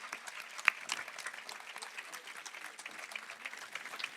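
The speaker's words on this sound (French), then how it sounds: "Sous vos applaudissements à tous, s'il vous plaît." Audience applause at a live debate event, steady dense clapping from a crowd sustained throughout, moderately loud and even with no break.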